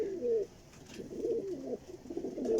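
A female pigeon gives three close, rhythmic bouts of low, bubbling coos, each swelling and fading, with no talk over them.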